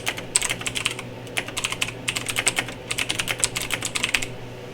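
Lowercase words being tapped out on a computer keyboard during sticker design work, in three quick bursts of close, crisp keystrokes separated by brief pauses.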